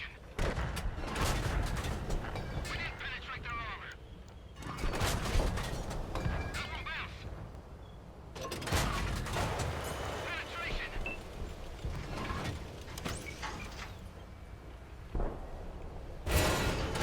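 Heavy tank cannon blasts in a tank video game, several broadband booms spaced across the stretch, mid-loud with rumbling tails, mixed with game noise and a voice talking over it.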